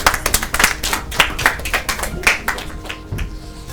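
Several people clap for a child contestant who has just answered a quiz question at a Children's Day event, a brisk burst of close, uneven hand claps lasting a few seconds and easing off toward the end.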